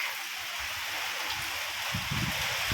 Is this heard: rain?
yes